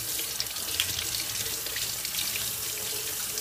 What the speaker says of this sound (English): so we're just going to rinse that off.